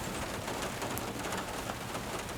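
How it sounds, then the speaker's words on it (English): A light rain shower patters steadily on the woodland canopy and ground, a soft continuous hiss of drops with no voices, heard from inside the timber during a bow hunt. "It just started raining again"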